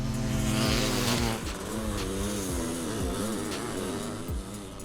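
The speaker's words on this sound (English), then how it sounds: "600 versus 700 drag race, flat out, off the back" Two powerful dirt bikes, a 600 and a 700, drag racing flat out, engines screaming at full throttle with rapid gear-change dips in pitch, loud and close throughout, no talking.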